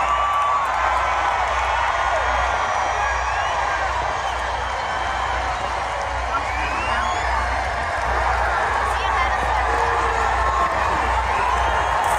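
A large rally crowd for Barack Obama in Georgia cheers and shouts continuously, a dense roar of voices, whoops and scattered clapping filling the space at steady loudness throughout.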